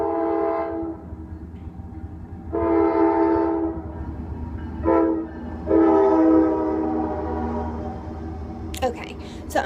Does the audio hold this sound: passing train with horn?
yes